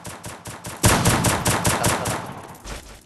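Gunfire in the Free Fire video game, a rapid burst of repeated loud shots in an even rhythm that fades toward the end, with no talking over it.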